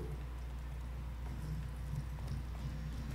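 Horse hooves in The Witcher 3 video game, a steady clip-clop of a walking mount under low game ambience, moderately faint and rhythmic.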